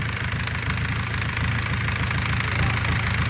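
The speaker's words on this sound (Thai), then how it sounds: "อ่านี่เดินเบาครับ" Small engine idling steadily after the throttle is set, a close, loud, continuous rumble with a rapid knocking pulse and no pauses.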